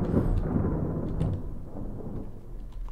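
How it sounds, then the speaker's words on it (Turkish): In the video game WorldBox, a lightning strike brings a deep, rolling rumble of thunder that is loudest at the start, then fades into a softer, low rumble with faint crackles. "Bir daha yıldırım çakarsa sikeceğim ama haberin olsun."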